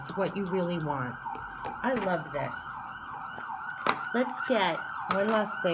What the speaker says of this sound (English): Sorry for the sirens, but I live in a city.